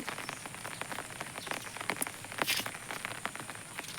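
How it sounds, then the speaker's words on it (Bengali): Morning rain falls on a road, a dense, continuous patter of drops hitting the surface with occasional louder splashes, heard close and without any voices. "কীরকম বৃষ্টি এসেছে দেখেন"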